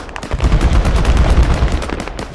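BMP armored vehicles in a war video game fire their guns in rapid, heavy bursts, close and loud, with overlapping shots forming a continuous rattling barrage.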